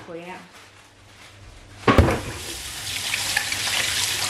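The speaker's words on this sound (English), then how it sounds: "washing the cocoyam." Cocoyam being washed under a running tap in a kitchen sink while preparing Cameroonian ekwang: the water suddenly gushes on with a splashy burst and then keeps flowing steadily and close. A brief voice is heard at the start.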